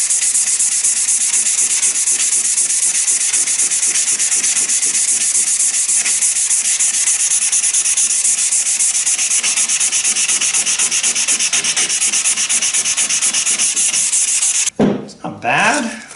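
Continuous steady rubbing of 220 grit sandpaper on a Stanley hand plane, close and loud for about fifteen seconds, then a brief handling knock as it stops.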